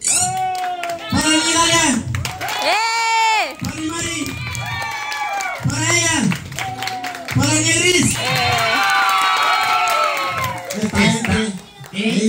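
Audience at a Spanish-language contest final claps and cheers in short bursts between loud announcer shouts, the crowd noise rising and falling under the amplified voice.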